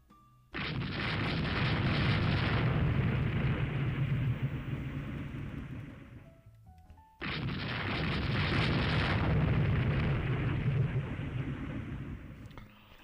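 Torpedo explosions strike a warship in the naval game Rule the Waves 3, heard as two long, loud roaring blasts, each lasting several seconds before fading, separated by a short lull.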